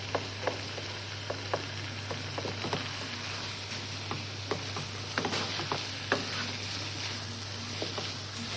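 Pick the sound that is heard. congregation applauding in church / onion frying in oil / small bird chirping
onion frying in oil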